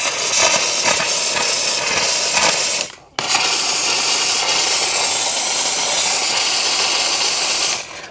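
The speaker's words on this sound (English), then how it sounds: "That's some steam. That is definitely some steam." Steam hissing from a Platinum series clothes steamer, a loud, close, continuous broad hiss that breaks off briefly near the middle and then resumes just as strong.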